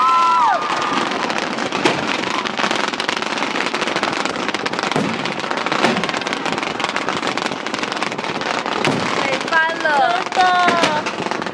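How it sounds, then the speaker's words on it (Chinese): Fireworks burst before dawn at Fulong, crackling and popping densely throughout, with a few whistling rockets rising near the start and again toward the end, while onlookers talk and exclaim over the bangs. "应该是我们就是看过最久、最多烟火的一幕。"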